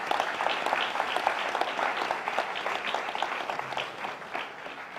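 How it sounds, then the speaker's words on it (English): A room full of people at a credit union staff gathering breaks into steady, dense applause, many hands clapping together at close range for several seconds without pause. "Let's clap for ourselves."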